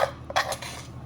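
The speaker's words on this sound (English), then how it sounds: "I'm gonna scoop it with this teaspoon." A metal teaspoon scoops freshly ground nutmeg, giving a few quick, faint clinks against a container in a quiet kitchen.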